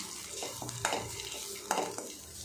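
Radish sautéing in a pan over a low flame, with a soft continuous sizzle broken by repeated scraping stirs and two sharper clinks of the spoon against the pan, close up, with no talking.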